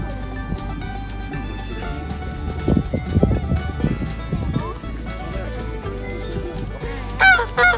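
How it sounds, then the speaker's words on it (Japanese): Geese honk repeatedly at close range, loud nasal calls rising in the middle, with a person talking softly and a high chirping burst near the end, the geese reacting to nearby chickens. "ガチョウが鳥たちに興味を持ってる"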